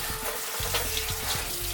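Running water rinses purple industrial degreaser off a surface, a steady close splashing rush with a few soft knocks underneath, brief and without speech.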